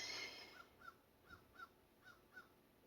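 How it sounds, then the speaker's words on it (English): A crow caws outside, about six short hoarse calls in a steady rhythm, faint and distant against a quiet background, with no talking. "Is the crow talking to you all?"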